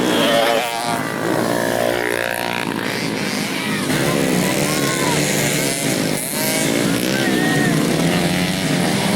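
Taxi motorcycles at a village race roar and whine continuously, revving up and down at close range, with a crowd and an announcer's voice mixed underneath.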